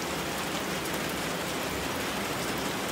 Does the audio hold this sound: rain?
yes